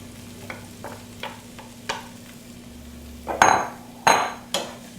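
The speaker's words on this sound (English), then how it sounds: "Now I'm simply going to saute the broccoli, get it nicely coated with the garlic and the oil." Broccoli sautés in a pan with garlic and oil, making a low sizzle under light taps, then several loud bursts of hissing and scraping as the vegetables are tossed and stirred.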